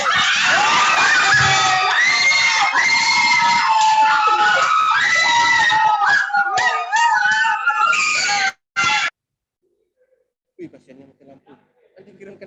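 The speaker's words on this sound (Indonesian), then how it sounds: "Tepuk tangannya teman-teman." A youth group at a church anniversary celebration erupts in loud, high-pitched shouting and excited cheering, with clapping buried in the din. The noise cuts off abruptly near the end, leaving near silence and then faint sounds.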